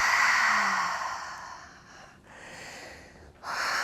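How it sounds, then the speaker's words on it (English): A deep yoga breath drawn in and let out slowly, audible as soft broad airy rushes that fade, pause briefly, then swell again near the end, close and alone with no talking. "Deep breath."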